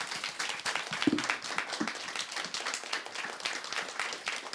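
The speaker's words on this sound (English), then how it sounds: "Please, big claps," Moderate audience clapping after a talk at an education café event, a sustained patter of many hands from a modest crowd, fairly close and unbroken throughout.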